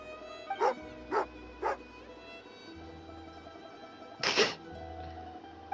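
A dog barking in the video game Genshin Impact, three short barks in quick succession and then a louder, longer bark after a pause, close by over a low background.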